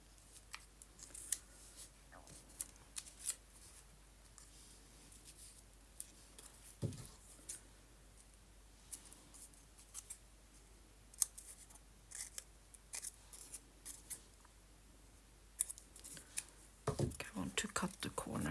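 Scissors snip the corners of paper journal tabs, giving quiet crisp snips spread across the span with soft handling noises, a whispered voice at times, and a denser run of cuts at the end.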